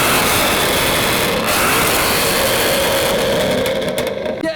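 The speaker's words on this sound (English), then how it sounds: "A couple of Porsches are parking up too." Porsche sports cars parking at a car meet, a loud close engine rumble that holds steady, then eases with brief mechanical clatter near the end.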